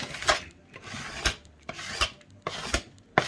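A plastic scraper pulls old wax off a snowboard base in repeated rasping strokes, about eight in a steady rhythm, close up with no voices.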